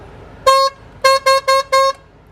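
A truck-style air pressure horn fitted to a modified Mahindra Bolero blasts loudly and close, one short honk followed by four rapid bursts in a row, with no voices over it.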